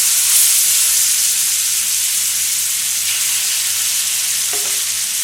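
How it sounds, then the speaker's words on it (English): Pork tenderloin steaks fry in butter in a pan with a loud, continuous sizzle and hiss. A faint clink of a utensil comes near the end. "We will add our steaks here. And we fry them 1 minute"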